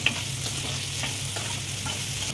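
Ivy gourd pieces stirred with salt in a hot frying pan, a continuous close sizzle with soft scraping strokes, no voices.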